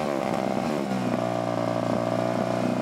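A loud student Formula race car engine revving during a noise test, holding a high, buzzing drone up close, its pitch settling into a steady roar.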